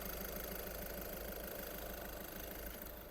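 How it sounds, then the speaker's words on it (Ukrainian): A Volkswagen Touran engine idles steadily and close, a low even rumble with a faint rhythmic knock that eases slightly toward the end. "Двигун працює чітко"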